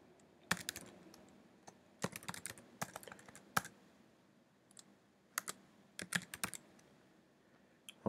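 Keys clatter on a computer keyboard in irregular bursts of quick taps separated by short pauses, close and fairly quiet against a hushed room, no one speaking.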